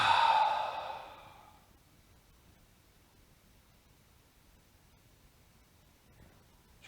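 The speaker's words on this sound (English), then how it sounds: "And then again, deep breath in." A deep exhale during a yoga session, heard as a soft breathy rush of air that fades over about two seconds, followed by near silence and a faint sound at the very end.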